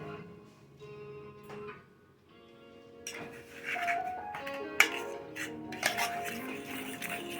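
Utensils clink and knock against a pot while beer batter for frying fish is mixed, a quiet stretch of stirring that turns busier and louder halfway through with sharp metallic taps.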